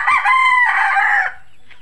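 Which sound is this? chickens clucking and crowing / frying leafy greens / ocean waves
chickens clucking and crowing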